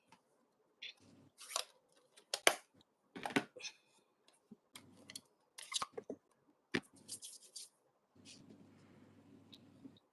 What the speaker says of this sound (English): hand cutting is not my favourite thing to do